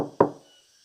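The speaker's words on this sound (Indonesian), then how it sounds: "Arga terbangun karena suara ketukan di pintu" A single sharp knock sounds on a door, close and clear, followed by a short decay into quiet with a faint high hum in the background.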